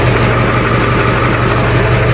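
Close, steady rumble of a Ford truck engine running in gear, a constant low throb with no change in pitch and no talk over it.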